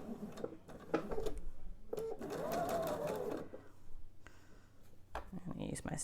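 A sewing machine stitches a quarter-inch seam while piecing quilt fabric for a table topper, running in a steady mechanical whir for several seconds with brief stops at each end.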